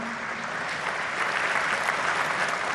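Applause from the audience at an industry day dinner in Argentina, a dense and even roar of many hands clapping that holds steady and slightly swells, with no talk over it.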